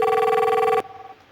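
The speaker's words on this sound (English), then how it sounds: "I try to call the other phone and it rings successfully" A desk telephone on a router-connected office network rings loudly with a steady electronic tone that stops abruptly, leaving a faint quiet tail.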